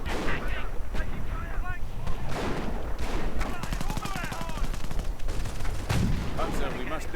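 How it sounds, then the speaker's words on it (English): FG-42 rifle fire in a World War II strategy video game, dense bursts of gunshots mixed with distant artillery booms and battle noise, with some voice chatter in the mix. "FG-42 fire."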